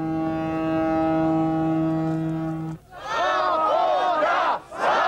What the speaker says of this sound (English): Ships on the river Moskva blew an audible salute.